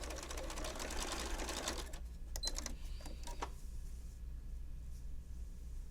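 A sewing machine runs steadily while back stitching a zipper bag, then stops, leaving a few light clicks and faint handling noises over a low hum.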